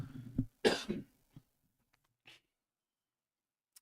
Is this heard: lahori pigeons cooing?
no